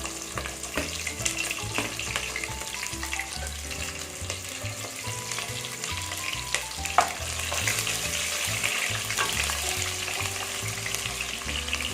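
Small onions and garlic fry steadily in oil in a pan for a Tamil fish curry, a continuous close sizzle with occasional stirring clinks under faint tonal background music.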